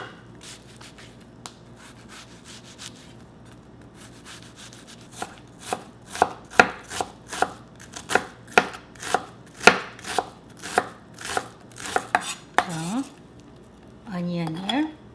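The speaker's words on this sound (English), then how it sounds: "Let's mince onion." Half a large onion minced with a knife on a board: a steady run of crisp, close chopping strikes in quick rhythm, softer taps at first, then a brief scraping sweep at the end.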